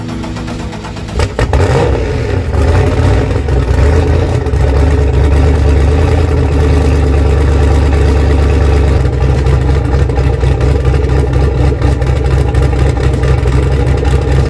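A turbocharged 5.3 LS V8 fires up from cold in a car, catching with a sharp burst and then holding a loud, steady, rumbling idle close by for the rest of the recording, with no talking.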